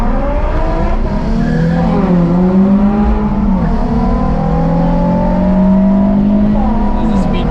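A sports car engine revs and pulls hard under throttle, rising and falling tones loud and close throughout, with faint tyre noise beneath and no talking.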